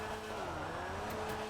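Rune Cheburek, a Lada-styled car in GTA 5 Online, drifting in a single gear: a steady engine drone with faint tire scrub, continuous and close throughout.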